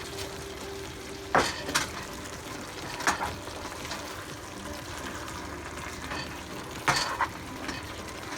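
Bok choy, baby corn and green onion stir-fry in a hot pan for chicken chop suey, with a steady sizzle throughout and three sharp spatula clatters against the pan, close and clear.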